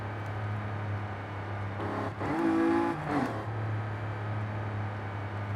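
A Toyota Camry TRD V6 with a widebody kit running at a steady idle, a low even hum that briefly rises in a short rev near the middle before settling back, fairly quiet and with no one talking.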